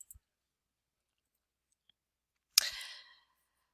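A single faint computer mouse click amid near silence, followed by a short, sharper clicking rattle up close.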